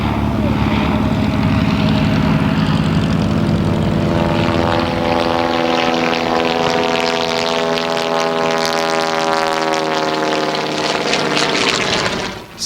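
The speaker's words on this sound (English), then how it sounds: "The Bristol fighter is the first aircraft to appear in the sky over Les Quesnoy" A Bristol Fighter biplane from the First World War drones loudly overhead in a steady, propeller-driven engine roar that holds for about twelve seconds with a slight swell, sweeping over a wartime reenactment of the liberation of Le Quesnoy.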